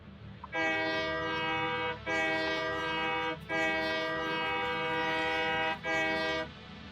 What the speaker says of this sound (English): there's an Easter egg in the game that gives you a steam whistle